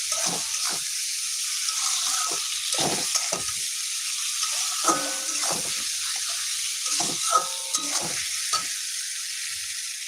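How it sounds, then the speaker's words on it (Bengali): Black mustard seeds frying lightly in oil in a home kitchen pan, a close crackling sizzle with repeated scraping strokes as the seeds are stirred, no speech. "কালো সর্ষাটা দিয়েছি কিন্তু এটাই কিন্তু আমি অতটা বেশিও ভাজা করব না একদম হালকা ভাজা করে দিব"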